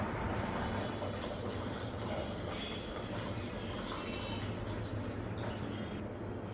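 Water poured into a pot of rasam cooking with boiled lentils, a steady gentle splashing and trickling flow running throughout at low level, close by.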